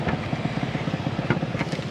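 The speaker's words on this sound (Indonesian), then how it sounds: "suara langsamnya juga enak" A Suzuki A100 motorcycle engine idles close by with a quick, even, pulsing putter, steady throughout the short stretch with no talk over it.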